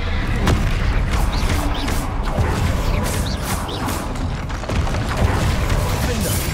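Loud, repeated explosive blasts of the Confringo fire spell in Hogwarts Legacy burst against a dense rumbling combat din, with a voice talking underneath.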